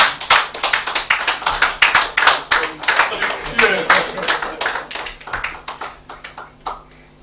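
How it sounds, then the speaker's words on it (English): An audience gives a round of applause at a televised panel discussion on voter registration, with dense, steady clapping that holds strong for several seconds before thinning out and fading near the end. "It is obvious that Comrade Abdul Haq wants applause."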